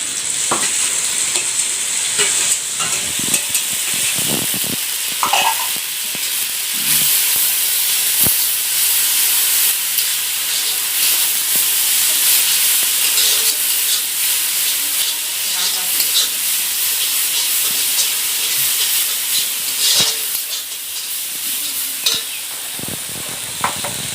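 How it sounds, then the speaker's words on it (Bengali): Ground spice paste of mustard, dried chilli and cumin fries with onions in a pan, a loud, continuous close sizzle and steamy hiss with scattered scrapes and clacks of stirring. "পেঁয়াজ ভাজা হয়েছে, এখন মশলাগুলো দেবো"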